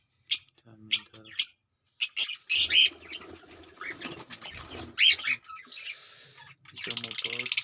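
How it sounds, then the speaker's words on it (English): Lovebirds chirping in short bright bursts alongside wing flaps and rustling, close by, with louder steady twittering building near the end; a voice speaks in between. "Some more birds."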